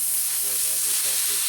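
Compressed air blown through a passage in a 1961 Harley-Davidson Sportster XLCH engine part, a constant loud hiss with faint pulsing underneath.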